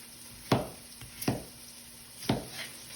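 A knife cuts potatoes into roughly three-quarter-inch cubes on a board, with a few sharp, close chops spaced irregularly against a steady kitchen hum.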